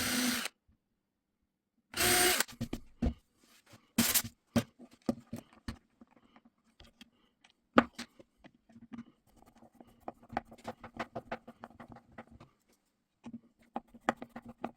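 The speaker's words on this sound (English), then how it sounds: "Drill 2 mm holes for the screws and screw the bracket onto the playfield." Power drill boring 2 mm screw holes into a pinball playfield to mount a kick-out hole bracket, heard in several short bursts with pauses, followed by scattered clicks and light handling noise.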